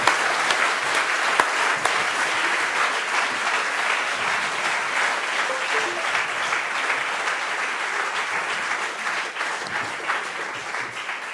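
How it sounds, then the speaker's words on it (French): A conference audience claps steadily and warmly, a dense, continuous wash of applause from many hands that holds for the whole stretch without fading. "On applaudit la fort Étienne."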